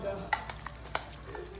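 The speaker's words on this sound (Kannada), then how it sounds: "ವೈಟ್ ಸಾಸ್ಗೆ ವೆಜ್ಜಸ್ ಆ್ಯಡ್ ಮಾಡ್ತಾ ಇದ್ದೀನಿ" Vegetables are stirred into white sauce for pasta in a pan, a soft sizzle underneath a few sharp scraping and clinking spoon strokes against the pan spread across the short moment.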